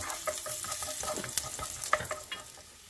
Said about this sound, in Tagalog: igisa lang natin itong bawang